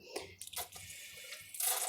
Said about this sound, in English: See, it just gives it a little bit of a spray.